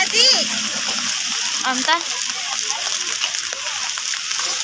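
Rain splashes and patters steadily on surfaces outdoors during a rainy holiday, a continuous wet hiss heard under a child's and adults' voices talking.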